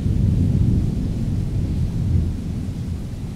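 Deep thunder rolls on through a storm, a loud continuous low rumble that swells and slowly fades over a few seconds, with no voices.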